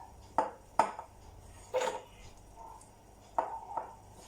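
A thick, dough-like gulab jamun batter of flour is stirred in a bowl, making a few separate scraping and clinking knocks of the spoon against the bowl with quiet pauses between them.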